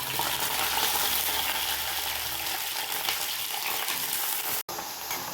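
Dried turkey berries frying in sesame oil in a pan on a gas stove, a steady dense sizzle that stays loud throughout, broken by one brief dropout near the end.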